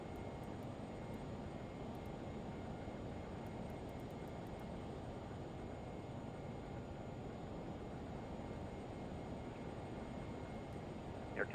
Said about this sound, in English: This little airplane screams.